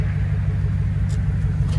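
A 2003 Toyota 4Runner V8 with a muffler-delete exhaust idles with a loud, close, steady deep rumble that holds even throughout, with no voices.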